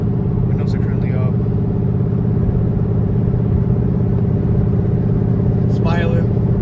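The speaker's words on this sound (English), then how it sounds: "The exhaust sounds good. This is with the windows up too" Shelby GT500 engine and exhaust heard from inside the car with the windows up, a steady low rumble and drone throughout while driving, with brief voice-like sounds near the start and end.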